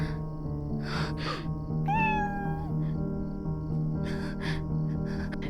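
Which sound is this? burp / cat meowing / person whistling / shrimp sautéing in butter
cat meowing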